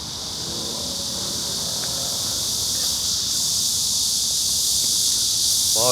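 A loud cicada chorus fills the air outdoors, a dense steady high-pitched buzzing drone that holds constant throughout with no pauses.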